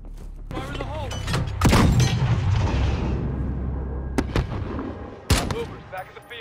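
Loud explosion and sharp bursts of gunfire in Call of Duty: Modern Warfare, a heavy blast followed by scattered shots and a later sharp crack, with voices in the game mix.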